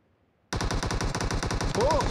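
Rapid automatic gunfire in PUBG Mobile, a dense burst of closely spaced shots starting abruptly after a short silence and continuing loud and close to the end.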